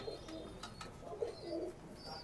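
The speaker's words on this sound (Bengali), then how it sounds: "এটা হচ্ছে বাপ, ইম্পোর্ট ব্লাড লাইনের কবুতর দেখেন" Pigeons of an imported bloodline coo softly in a loft, with a few low, rolling calls and faint chirps heard at a distance over quiet background noise.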